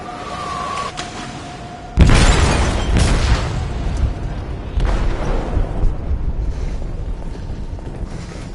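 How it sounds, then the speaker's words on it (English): An explosive detonating in the hold of a ship in Detroit: Become Human, a sudden heavy boom after a quiet stretch, followed by rumbling aftershocks and lingering low roar and debris, no voices. "They detonated an explosive in the hold"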